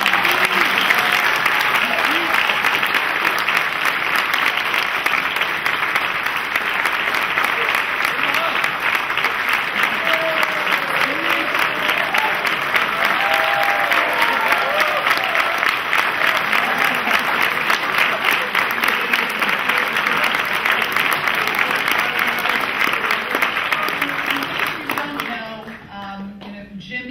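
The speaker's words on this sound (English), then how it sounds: "And if we could please just give another hand," An audience at a scholar award ceremony breaks into sustained applause, a dense wash of many hands clapping that carries on strongly for about twenty-five seconds before tapering off, with some voices mixed in.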